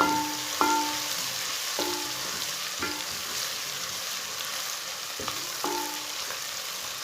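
Garlic and ginger paste sizzles steadily in hot oil with a constant crackling hiss, broken by a few sharp clinks of a spoon stirring against the pan.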